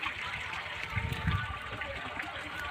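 Water flows steadily with a soft, continuous rushing outdoors at a riverside or pond spot during a festive family gathering, someone speaking over it at moderate distance.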